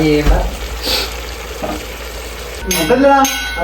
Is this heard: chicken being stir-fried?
yes